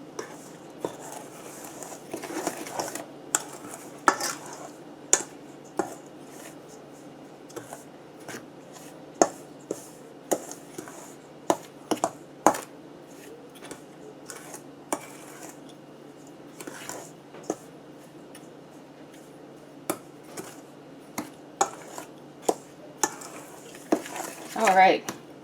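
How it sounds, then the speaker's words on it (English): Spoon stirring dry carrot cake ingredients in a mixing bowl, a run of light scrapes and sharp clinks against the bowl repeating unevenly for a long stretch, close up over a quiet room tone. "I want to take a spoon and we want to mix those around, making sure the dry ingredients are mixed well"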